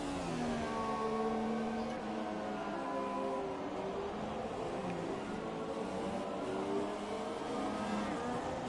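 A McLaren Honda race car engine in a 2018 racing game, droning steadily with a wavering pitch as it revs up and down, continuous and moderately loud throughout.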